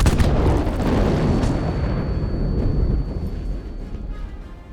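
A huge fuel tank explosion in Battlefield V on the Wake Island map: a loud, close blast that rumbles on as a dense, roaring wash with crackling debris, slowly easing over several seconds.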